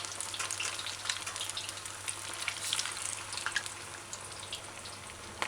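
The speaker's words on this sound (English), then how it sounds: "and then you add your chicken, coated chicken parts to the hot" Coated chicken parts fry in hot heated oil in a large saucepan, giving a steady, close crackling sizzle with dense bright pops throughout and no talking.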